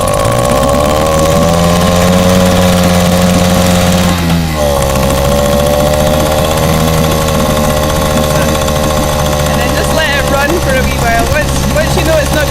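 Outboard engine on a 707 sailing keelboat idling steadily at a yacht club, a loud continuous mid-pitched hum that settles to lower revs partway through and keeps running throughout.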